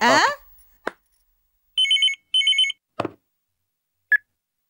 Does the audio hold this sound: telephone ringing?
yes